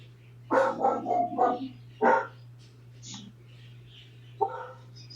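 Several short dog barks in quick bursts, then a pause and a later bark, fairly close, with a steady low hum underneath.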